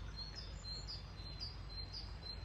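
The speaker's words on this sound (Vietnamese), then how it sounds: "Vô đây chỉ để nghe chim nó hót thôi." Birds sing in the trees beside a swan lake, a string of faint repeated high chirps over steady low outdoor rumble, with no one talking.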